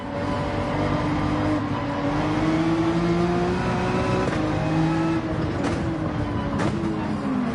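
A race car in Gran Turismo 7 drives through an online race, its engine note rising and falling steadily with a sustained whine, then easing as the car brakes hard, loud and continuous with no talk.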